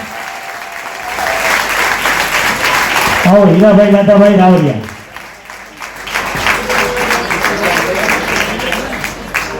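An audience claps loudly and continuously at a live community honouring event in Kutch Vagad. A voice calls out briefly midway while the applause carries on around him.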